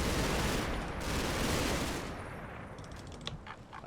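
Video game machine gun fire: a dense, loud rattle of rapid shots for about two seconds, then fading into a thinner tail with a few scattered sharp clicks.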